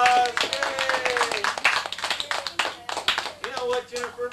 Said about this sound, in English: give yourself some applause.